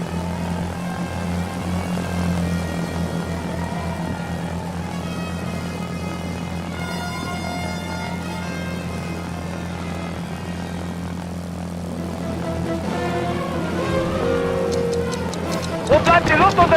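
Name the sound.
Ju-87 Stuka dive bombers in video game Secret Weapons Over Normandy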